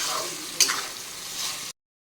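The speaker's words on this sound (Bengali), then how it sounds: "আগে মশলাটা দিয়ে ভালো করে কষে নিই।" Minced meat and spice paste sauté in a hot pan with a bright, continuous sizzle. A spoon scrapes and stirs through it, with a brief louder stir partway. Nothing is heard after it cuts off near the end.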